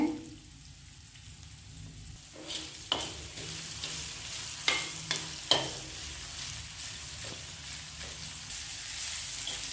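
Onions fry with salt in a pan, a soft steady sizzle broken by several crisp spoon scrapes and taps as they are stirred; no one speaks.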